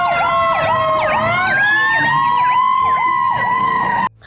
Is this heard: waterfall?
no